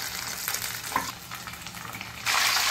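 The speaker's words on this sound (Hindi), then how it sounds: "अब हम बचे हुए बटरफ्लाई को भी इसी तरह से फ्राई कर लेंगे।" Chicken butterfly pieces fry in hot oil, a continuous close sizzle with occasional crackles and pops, swelling louder near the end, with no talk.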